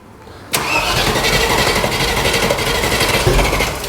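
A Range Rover Classic engine under restoration cranks and catches, a sudden loud onset followed by a steady rough churning roar that holds close and strong throughout.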